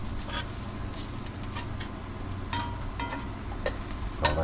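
Carrots sizzle and char in a hot frying pan with a steady, moderate hiss and occasional light scrapes and pops, continuous and close.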